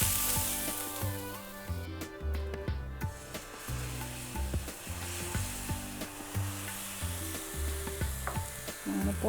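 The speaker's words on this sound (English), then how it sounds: "Now this is the sizzle you're looking for." Oil sizzles on a hot pan before whole wheat dosa batter is poured, a bright crackling hiss heard against a busy rhythmic background of music-like tones.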